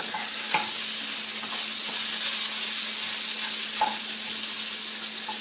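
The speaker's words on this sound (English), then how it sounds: "Back to the frying. The sauteing mushrooms." Mushrooms sautéing in a frying pan give a loud, steady close-up sizzle throughout, with a few faint stirring clicks and no voices.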